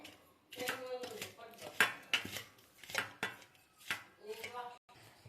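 Ingredients are mixed with jaggery in a bowl for sweet balls, with a utensil clinking and scraping against the bowl in a run of close, irregular strokes.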